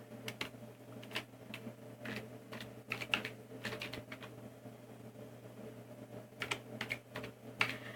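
Fingers type a name on a computer keyboard in a quick, uneven run of light clicks, steady and close, over a low constant hum with no talk.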